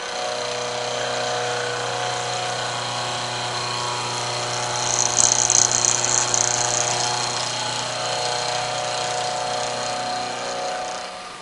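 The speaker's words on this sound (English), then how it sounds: "we'll turn the milling machine on, and we will move the cutter through the part" A milling machine runs with a steady tonal hum while its cutter moves through a metal part, with a brief brighter whine from the cut partway through; continuous and close.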